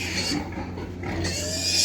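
Pigs grunt and oink on a Ukrainian farm where piglets are being sold, a loud close run of rough grunts and squeals filling the short moment without speech.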